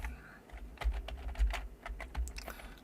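Computer keyboard keys click in quick, irregular bursts as shortcuts are pressed in Modo 3D software, close and crisp, with no talking.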